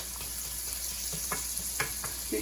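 Onion sautéing in a pan for an Indian spicy omelet, a steady soft sizzle with light scraping and tapping from a spatula, close by and moderately quiet.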